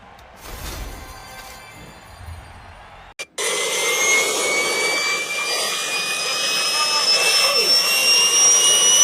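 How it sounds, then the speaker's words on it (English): A jet engine strapped to a scooter spools up abruptly after a sharp bang, then roars loud and steady with a rising whine; quiet rumble and talk precede it. "In what world are we strapping a jet engine to a fucking scooter?"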